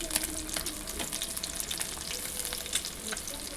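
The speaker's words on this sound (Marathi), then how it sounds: "हा बांगडा आपल्याला तव्यावरती तेलावरती फ्राय करण्यासाठी सोडून घ्यायचा आहे." Mackerel coated in semolina shallow frying in oil on a flat griddle, a continuous close sizzle with crackling pops scattered throughout, steady and fairly quiet.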